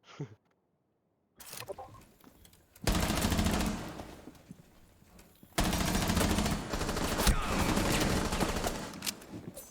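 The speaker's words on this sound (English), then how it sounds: "Gunshots will go out." Rainbow Six Siege gunfire in sustained heavy volleys during a professional esports match, rapid shots blending into a continuous roar, after a quiet start with a few faint clicks.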